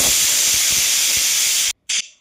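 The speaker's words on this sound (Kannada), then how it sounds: "ಇದಿವಾಗ 3 ವಿಸಲ್ ಆಗಬೇಕು." A pressure cooker cooking chicken biryani vents steam in a loud, steady hiss that stops abruptly. A short final blast of steam follows and fades out, with no voices.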